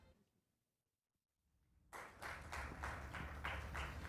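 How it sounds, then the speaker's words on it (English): Applause for an award winner at an education conference in Dubai rises suddenly after near silence into sustained clapping from a large audience, steady and fairly loud through the end. "Please keep that applause going,"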